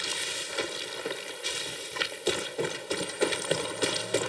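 Horse hooves clip-clop in an irregular, quickening rhythm, sharp and close, over a steady background hum, in the video game Far Cry 6.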